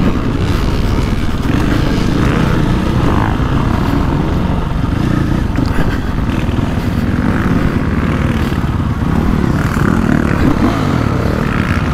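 A 2024.5 KTM 450 Factory Edition dirt bike ridden offroad on hard-pack terrain: loud, close, continuous engine roar that rises and falls with the throttle for the whole stretch, with rushing wind noise.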